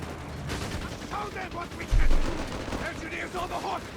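An M16 halftrack's machine gun fires in Company of Heroes 3, with rapid bursts punching through dense battle noise, one heavier thump standing out midway.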